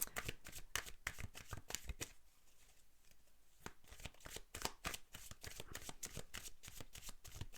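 Oracle cards are shuffled by hand in steady rapid riffles, crisp papery flutters repeating close up, with a brief pause midway before the shuffling resumes.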